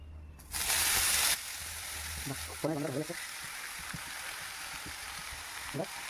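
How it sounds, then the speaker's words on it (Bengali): Bay leaves, dried chillies and panch phoron sizzle in hot oil for a lauki ghonto, a loud burst of frying hiss at first that settles into a steady quieter crackle, with brief voices speaking over it. "তেজপাতা, শুকনো লঙ্কা আর পাঁচফোড়ন ফোড়নে দিয়েছি।"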